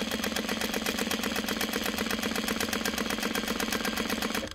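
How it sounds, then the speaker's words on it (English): A Juki DU-1181N industrial walking-foot sewing machine stitching lighter material with T40 thread before adjustment, a steady fast mechanical rattle of needle strokes running continuously at close range. "I'm going to sew on the machine and show you how bad it'll sew without any adjustments."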